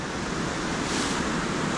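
Water rushes steadily through an old water wheel housing at a mill, a loud, continuous broadband roar that stays constant throughout.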